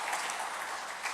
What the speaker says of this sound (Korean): 우리 축하의 박수를 한번 보내주시기를 바랍니다.